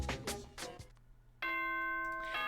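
A ding-dong chime announcement from the video game Danganronpa rings out clearly after a stretch of speech, sustained bright tones holding for about a second before more talk resumes.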